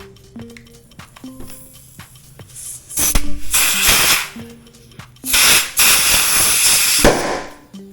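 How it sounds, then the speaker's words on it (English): Compressed air blown into a brake caliper hole on a 2012 Acura TSX to push out the piston, two loud harsh hissing blasts of a second or two each, separated by quieter tool clicks and handling noise. "take my compressed air and blow some air into this hole"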